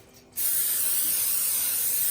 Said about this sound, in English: I am going to spray it just a little bit.